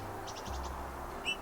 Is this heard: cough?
no